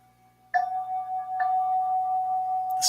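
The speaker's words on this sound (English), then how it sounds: "the tolling of the bell" A meditation bell tolls twice at a slow, spaced interval. Each strike rings out clearly, and a long, steady hum sustains through the decay in a quiet room.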